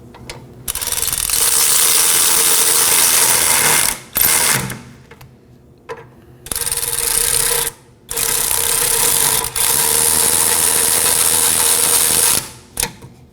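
Rapid ratchet clicking as brake caliper bolts are snugged down on a 2015-2023 Nissan Maxima, loud bursts of several seconds separated by short pauses.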